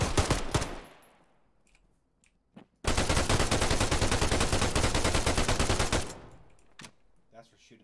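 A long, loud burst of automatic gunfire in a shooter video game lasts about three seconds after a few isolated shots, then trails off into quieter noises.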